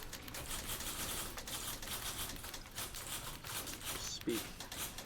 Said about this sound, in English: Why is the typewriter still going?